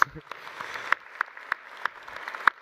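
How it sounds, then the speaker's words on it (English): Audience applause at a charity fundraising breakfast, heard as a few sparse, separate claps spread through the moment rather than a full ovation, moderately close with faint crowd presence. "I think that deserves a round of applause."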